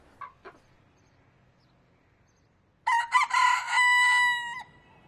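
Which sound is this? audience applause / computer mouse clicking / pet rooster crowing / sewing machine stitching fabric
pet rooster crowing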